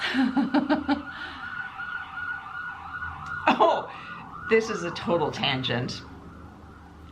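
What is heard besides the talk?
ambulance siren passing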